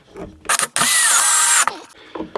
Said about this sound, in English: I've cut this angled block, which I'm just going to screw into the base